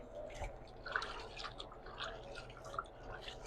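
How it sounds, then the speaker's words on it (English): Pot of chili coming to a boil, with soft irregular bubbling and small pops close by but faint, with no talk over it. "now you can start to see the bubbles percolating"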